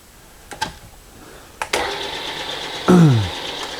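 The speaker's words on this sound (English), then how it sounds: "that's 80 RPMs. That's the slow speed on a Bridgeport belt drive J head." A Bridgeport belt-drive J-head mill starts up and runs at its slow speed, a steady mechanical hum after a couple of clicks, with a descending whine as the speed is brought down.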